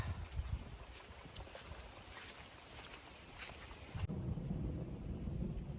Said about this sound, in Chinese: 哇，又要打雷了。